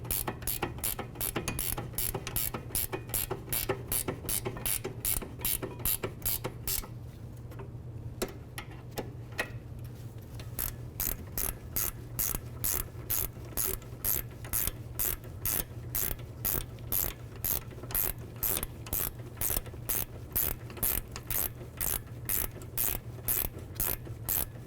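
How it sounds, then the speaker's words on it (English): Rapid, steady ratchet wrench clicking as 17 mm caliper bolts are snugged up on a 2010-2015 Lexus RX350 rear brake, close and continuous with a brief pause partway, over a low steady hum. "so I'm gonna get my ratchet wrench, gear wrench, snug them up"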